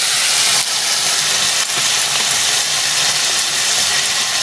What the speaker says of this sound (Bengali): এবার এটা কষা হচ্ছে। আপনারা দেখতে পাচ্ছেন এটা কষা হচ্ছে